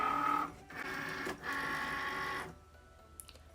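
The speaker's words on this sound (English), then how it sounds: "Cricut Maker is cutting the shapes out." A Cricut Maker cutting machine whirs and clicks as its carriage shuttles back and forth cutting shapes, in short mechanical bursts with brief pauses before going quiet.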